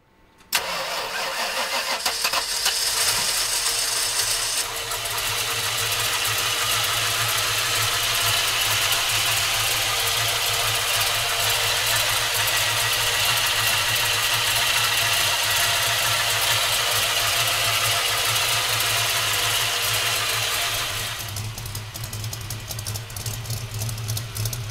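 A 1968 Ford Mustang's engine cranks and catches near the start, then settles into a steady, loud idle with a deep low rumble, alone without talk until a slight change near the end.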